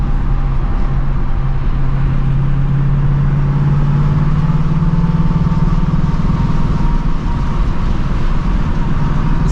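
A 2024 Ford Mustang GT drives at night with its loud exhaust droning steadily, a deep engine note rising slowly in pitch as it pulls, sustained and close throughout with no talking.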